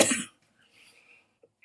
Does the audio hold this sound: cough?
yes